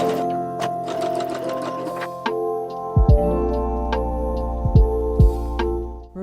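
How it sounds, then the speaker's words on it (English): A sewing machine stitching a cup piece of a milkmaid crop top to its lining with a normal stitch length, running steadily at close range over background music, with a few louder low thumps partway through. "With right side facing, sew it in place with the normal stitch length."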